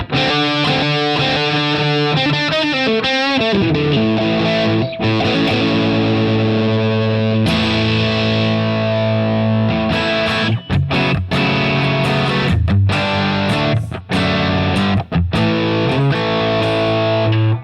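An electric guitar played through a tone control pedal, which adds a high cut and lowers the volume, sounds distorted with effects in a loud continuous passage of strummed chords and riffs. There are a few brief gaps.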